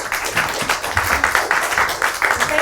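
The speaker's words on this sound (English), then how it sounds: "Let us all give the team a round of applause for their impressive efforts." Audience applauding a team at the end of a round of a business case competition, a steady burst of many hands clapping at close range with no talk over it.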